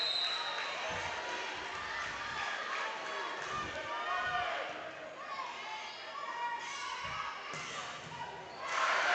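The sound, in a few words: crowd cheering at a volleyball match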